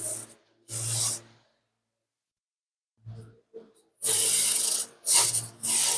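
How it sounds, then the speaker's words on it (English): Scraper dragged across the floor of a wooden meat-rabbit hutch, loosening dried rabbit manure: rough rasping strokes in separate bursts, a pair early, then a pause and a denser run of loud close scrapes. "come in here and you just kind of scrape the bottom, and that'll scrape away anything that's there"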